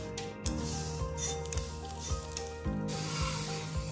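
Desi ghee sizzling on a makki roti flipped on a hot griddle, a steady hiss broken by a few soft scraping thuds as the flatbread is moved, with a low hum beneath.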